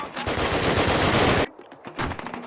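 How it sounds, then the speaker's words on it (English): Loud, dense gunfire from a Call of Duty 1 battle on Veteran difficulty, an unbroken burst of shots for about a second and a half, then a pause and a shorter renewed volley with no talk over it. "Jason pushes up, giving me confidence to plant the explosives on this AA gun and start sniping."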